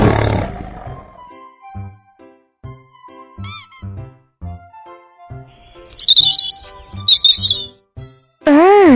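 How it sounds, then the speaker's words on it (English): Short bird chirps and tweets come in spaced bursts, a few of them faint and a cluster of them louder and busier near the end, with brief high whistles between them. "Bird."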